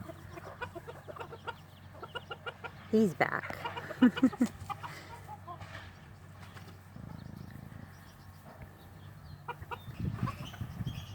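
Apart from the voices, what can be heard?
chickens and roosters in a pen, Silkie chicks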